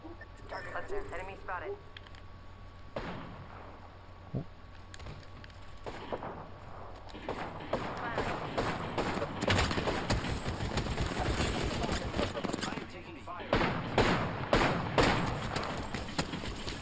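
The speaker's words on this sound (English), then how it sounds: "there's gunshots" Gunfire in the battle royale shooter Apex Legends, sharp bursts of shots crackling in the distance and then closer and denser toward the end, under steady game ambience and players talking.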